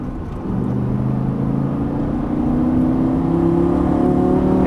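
A Lamborghini Gallardo engine drones steadily while being driven around a track, its low rumble holding at a constant throttle and slowly climbing in pitch over a few seconds.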